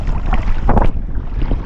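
Strong gusty wind buffets the microphone while kayaking on Lake Superior, a loud continuous roar with a sharper gust swelling briefly in the middle, mixed with faint water sounds around the kayak.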